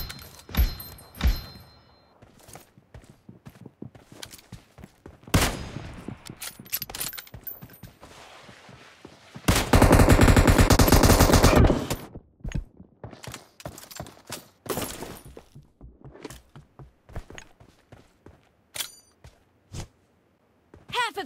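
Rapid video game gunfire rings out in a team shooting match, with scattered sharp shots building to a loud, dense burst of continuous fire before dropping back to intermittent cracks and clicks.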